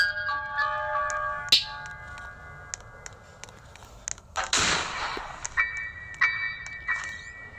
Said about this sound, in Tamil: எவ்வளோ சுடுற சவுண்டு கேட்குது